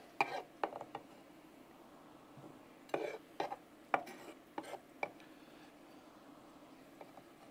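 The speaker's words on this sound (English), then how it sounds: "We'll just go ahead and dump this in that bowl." A hashbrown mixture for hot honey jalapeño popper hashbrowns is tipped into a bowl, giving quiet scrapes, soft rasps and a few light clinks scattered over a few seconds in a still kitchen.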